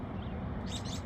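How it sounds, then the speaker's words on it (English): Robins forage around a garden bush, giving a few faint, high chirps midway through over a steady, noisy outdoor background. "Got a lot of robins."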